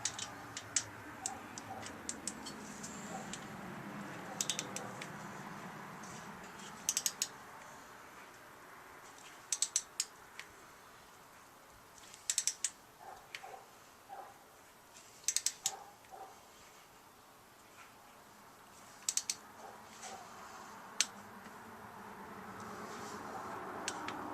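A torque wrench tightening a spark plug on a 2010 Harley-Davidson Road Glide gives sharp metallic clicks in small clusters spread across the span, close by and alone, with quiet ratcheting between.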